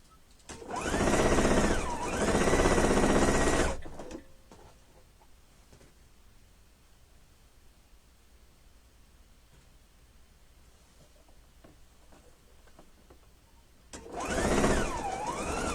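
A sewing machine stitches a pillowcase in two loud bursts, one running about three seconds at the start and a shorter one near the end, with a quiet stretch of soft handling noise between them.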